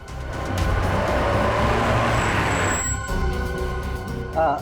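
A car arriving, its engine and tyres rumbling loudly and steadily close by, easing off near the end with a brief higher squeal, in a busy street setting.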